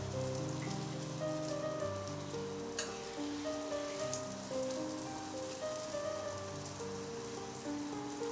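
Radish paratha frying in oil in a pan, a steady even sizzle running the whole time at moderate level, with a continuous background hum and no voices.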